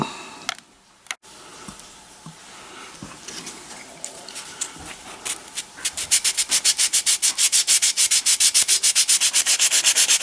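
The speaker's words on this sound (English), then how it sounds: "I'm sanding away a little bit of wood here." Sandpaper rubs on wood, first in scattered scrapes, then in a fast, regular back-and-forth rhythm, close and loud.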